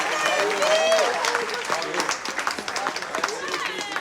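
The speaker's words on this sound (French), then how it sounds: "On peut les applaudir." An audience at a French screening event claps in a burst of scattered applause that thins to sparse claps, while a voice speaks over it.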